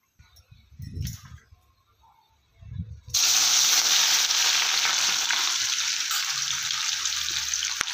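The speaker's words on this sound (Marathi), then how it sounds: "आणि तळलेला कांदा घालणार आहेत." Fried onions drop into a pan of chicken biryani masala with coriander powder, turmeric and salt, setting off a sudden loud, steady sizzle after a few quiet moments of soft handling noises.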